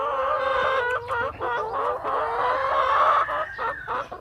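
A flock of twenty laying hens clucking and squawking on a small farm, a dense, busy chorus of overlapping calls, close and fairly loud throughout with no talking.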